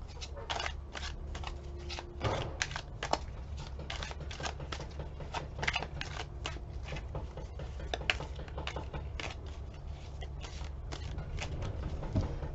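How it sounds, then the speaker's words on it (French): Playing cards shuffled by hand, a long run of quick riffling snaps and pattering ticks, close and steady throughout. "Je mélange les cartes."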